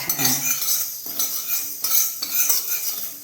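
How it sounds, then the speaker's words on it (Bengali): Panch phoron spices fry in a pan for a Birbhum-style vegetarian sour dish, giving a steady broadband crackle with metal utensil scrapes and clinks that come in bursts, close and moderately loud, with no talking. "এই পাঁচ ফোড়ন ভাজছি তাতে একটা সুন্দর গন্ধ"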